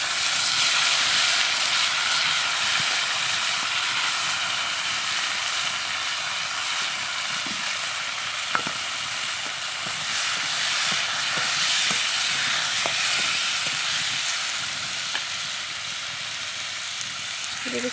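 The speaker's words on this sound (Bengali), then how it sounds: "এবার দিয়ে দিচ্ছি কেটে রাখা টমেটো।" Chopped tomatoes hit hot oil seasoned with ginger and five-spice, letting off a loud, continuous hiss and sizzle that holds steady throughout, with a few faint clicks and no voices.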